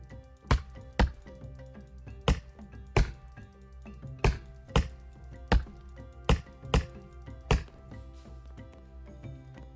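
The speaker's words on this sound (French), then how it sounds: "On va couper cette branche là." An axe chops at a tree branch in Roblox Lumber Tycoon 2, giving about ten sharp, evenly spaced thunks, steady and moderately loud against a quiet background.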